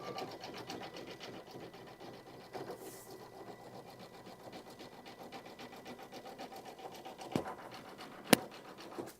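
An embroidery machine stitches an applique bunny design with a rapid, steady mechanical needle chatter. The sound is close and continuous, with a couple of sharp clicks near the end.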